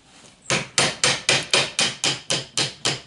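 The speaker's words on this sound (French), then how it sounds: "un coup de marteau et faire passer l'axe." Hammer blows driving the axle through a bicycle crank, ten sharp, evenly spaced metallic strikes at close range with nothing else audible.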